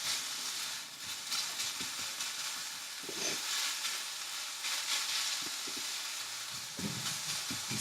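Food for a low carb breakfast fries in a pan, giving a steady, close hissing sizzle with occasional pops and stirring scrapes, and no talking.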